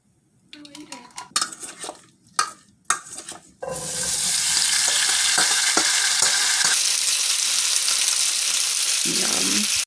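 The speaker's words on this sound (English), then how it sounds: "While I have my very loud potatoes frying" Potatoes seasoned with salt, pepper and oil fry loudly in a pan, a steady hiss and sizzle filling the room after a few clinks of utensils and pans at the start.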